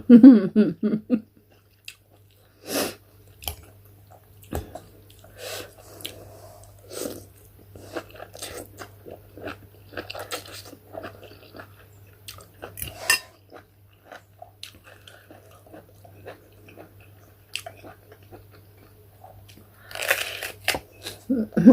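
Someone eats Mama instant noodle soup, with close, crunchy bites and wet chewing coming in irregular bursts, occasional utensil clinks, and a faint steady hum underneath.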